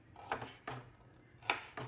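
Shallots chopped with a knife on a board, four distinct close thuds spaced roughly evenly, fairly faint with quiet gaps between.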